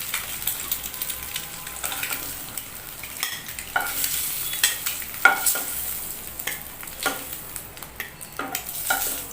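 Eggs frying with a little turmeric in a pan until browned: a steady crackling sizzle with the scrape and click of stirring throughout, close and fairly loud, with no voices.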